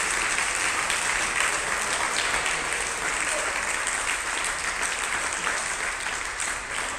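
Sustained applause from a squash crowd after a rally in a tournament semi-final, a dense, steady wash of clapping that holds at an even level for about seven seconds.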